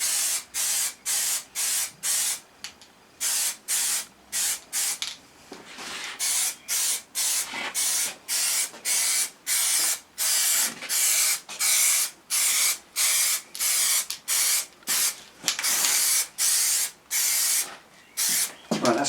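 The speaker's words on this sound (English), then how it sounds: "just going to do almost a dust coat" Plastidip is sprayed from an aerosol can as a light dust coat onto a test piece, a close hissing delivered in dozens of short, rhythmic bursts with brief silent gaps between them.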